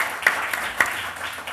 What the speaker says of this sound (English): How about a brief round of applause for our panelists